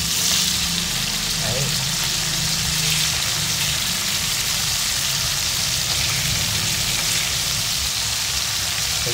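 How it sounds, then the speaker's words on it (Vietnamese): Sea mackerel marinated with lemongrass and chili fries in a pan, giving a steady, loud crackling sizzle of hot oil throughout with only a faint low background hum. "mình chiên cá như vậy"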